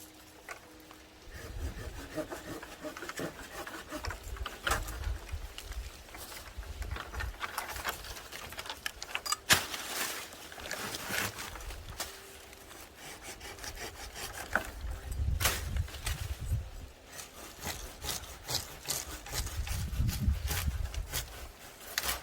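Pruning a persimmon tree in a vegetable garden: close rasping strokes of a hand saw cutting through wood in repeated rhythmic runs, with a few sharp snaps and rustles between cuts.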